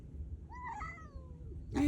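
A cat on Mykonos lets out a single clear meow, rising then falling, close by against a quiet background.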